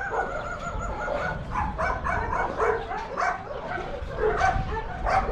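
Many dogs bark, yip and whimper together at a large animal rescue pound in Paphos, Cyprus, a busy overlapping chorus at mid distance that carries on without a break.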